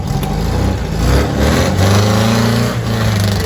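A 1973 MGB GT's engine revs as the car is driven out of snow, a close, loud rising and falling drone with gritty broadband noise, swelling in the middle and holding steady.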